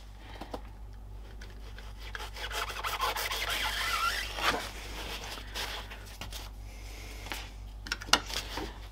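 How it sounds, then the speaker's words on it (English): Seat upholstery material is cut to shape a rounded corner, a close, steady rasping and rubbing that swells in the middle and is broken by a few small clicks and scrapes near the end. "To get a rounded corner, all I'm going to do is cut straight down."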